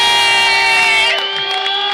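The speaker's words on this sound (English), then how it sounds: "Give a massive round of applause for my friend and your friend" A crowd at a London rally bursts into loud, sustained cheering and applause, swelling over a steady droning tone that fades about halfway through.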